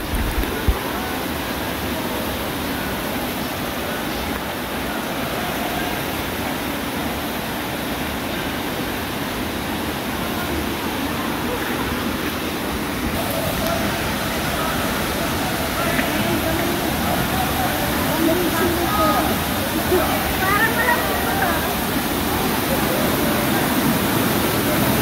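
Taytay Falls waterfall rushing in a steady, dense broadband roar that holds constant throughout.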